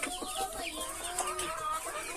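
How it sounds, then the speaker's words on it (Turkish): A busy flock of chickens and chicks cluck and chirp, with short overlapping calls and peeps close by. "Civcivler, tavuklar."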